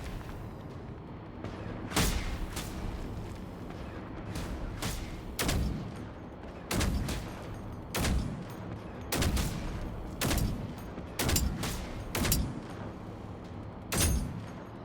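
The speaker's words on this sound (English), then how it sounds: "Oh, the other one's still shooting at me, though." Repeated bursts of gunfire from an enemy robot in a video game, a dozen or so sharp loud volleys spaced irregularly over a low steady background.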